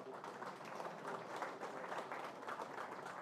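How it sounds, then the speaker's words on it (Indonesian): Steady applause from a crowd, continuous clapping at moderate volume throughout with no pauses. "Tepuk tangan untuk mereka."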